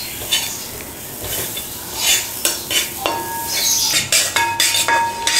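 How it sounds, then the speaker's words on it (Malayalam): Brinjal frying in a pan is stirred with a spoon, steady sizzling broken by several sharp metallic clinks and scrapes against the pan, close and fairly loud. "അപ്പം നമുക്ക് ഇളക്കിയെടുക്കാം"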